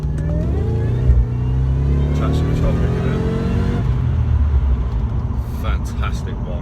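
Supercharged V8 in a Jaguar XJR under load at cruising speed, a deep continuous rumble with a rising harmonic growl that eases after a few seconds; a voice talks over it.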